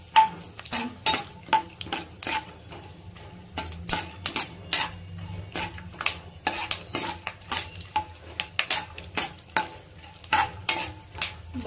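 Peanuts and tempering spices fry in oil in a kadai, stirred with a metal spoon, giving rhythmic scraping clatters over a faint sizzle, with no talk.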